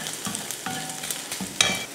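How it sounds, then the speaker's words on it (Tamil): Onion and coconut sautéing in a pan for paruppu chutney, a close, steady sizzle broken by a few scrapes and stirs of the spoon, with no talk over it. "உப்பு சேர்த்துட்டு நல்லா வதக்கிடலாம்."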